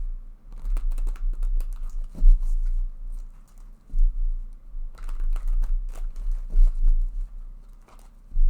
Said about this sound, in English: So I can go ahead now and shuffle this deck several times.